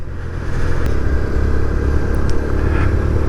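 Steady low engine rumble from a 2023 Kawasaki Z125 motorcycle being ridden, heard close and continuous with road and wind noise throughout, no voices.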